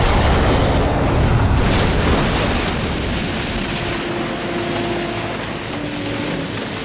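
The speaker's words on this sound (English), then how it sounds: "using the World War II rifle to shoot the tank and blow it up, killing the shark" Climactic explosion from the film Jaws, where a rifle shot blows up an air tank and kills the shark: a loud, roaring blast rolls into a long, rumbling wash of debris noise that slowly settles.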